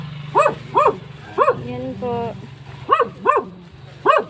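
A dog barks outside a house in Bohol, giving short sharp barks in quick pairs and a few whiny yelps in between. People talk nearby during the barking.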